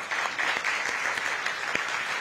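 An audience at a national budget summit applauds a member of the organizing media team, a steady, moderately soft roll of many hands clapping that continues evenly for a couple of seconds.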